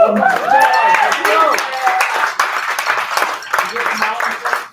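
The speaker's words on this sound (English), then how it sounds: "Big round of applause" An audience claps after a round of thanks at a small community talk event, the patter of hands rising through the second half while voices and cheers overlap it close by.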